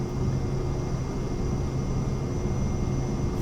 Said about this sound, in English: Release the parking brake, full power. Off we go down the runway.